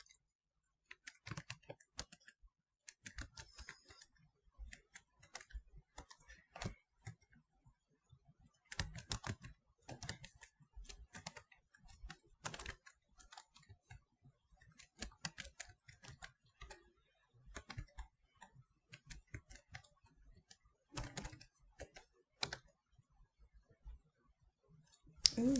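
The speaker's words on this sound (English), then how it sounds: "I'm typing the information per the book" Typing on a computer keyboard in bursts of clicking keystrokes with short pauses between, fairly close and alone, with no voices over it.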